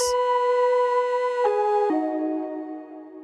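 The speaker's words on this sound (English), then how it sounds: "let's go ahead and throw a halftime on here and just see what this sounds like" A sustained synth tone run through a halftime effect in Ableton Live 11 drops in pitch in two steps, sounding slowed and stretched as it fades, with no voices.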